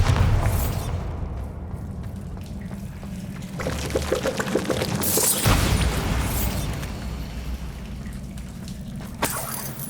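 Bombarda, a spell cast in Hogwarts Legacy, sets off a sharp blast midway through, with a burst of crumbling, splashing debris around it over low rumbling game ambience.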